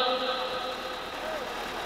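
A tractor engine runs at a steady idle-like rumble throughout, fairly quiet, with people talking over it.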